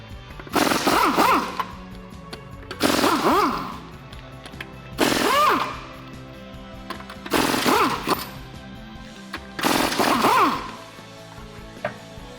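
Five loud bursts of an air impact gun spinning off 22 mm factory lug nuts on a 2008-2022 Dodge Challenger, each a rattling hammering whirr lasting about a second, separated by short pauses in a garage.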